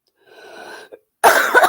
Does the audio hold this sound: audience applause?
no